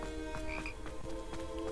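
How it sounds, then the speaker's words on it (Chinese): Frog croaking inside the video game Hogwarts Legacy, a steady run of repeated croaks over a constant ambient bed of game sound, with no talk. "怎么有青蛙的声音？"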